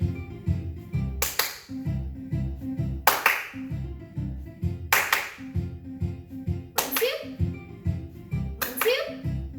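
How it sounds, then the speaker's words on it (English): Children clapping along to music in a movement class: sharp paired claps land at regular intervals over a steady rhythmic music track, with a voice heard faintly between them. "So you're gonna clap along with me"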